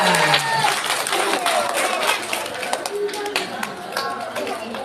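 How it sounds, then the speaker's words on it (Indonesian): An audience claps for kindergarten children at a morning gathering of an Islamic boarding school, brisk dense clapping mixed with children's voices and chatter throughout. "Tepuk tangan untuk TK."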